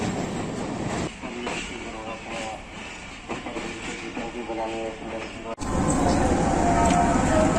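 Pakistan Railways' Allama Iqbal Express runs on its Karachi to Lahore journey, with a steady loud rumble of rolling wheels and carriage noise heard from on board, and a brief drop before the roar swells again.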